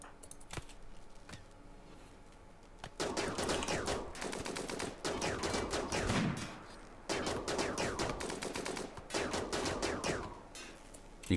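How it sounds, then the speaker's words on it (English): Charge rifle gunfire during a raid on a Rimworld base comes as rapid, dense bursts of sharp shots in several sustained volleys, separated by short pauses and preceded by a few isolated cracks. "You can see why charge rifles are so good."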